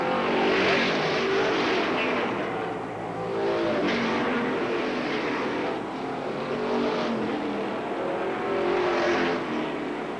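Race cars roaring around an oval track, engines droning loud and steady with rising and falling waves as the pack passes, no voices.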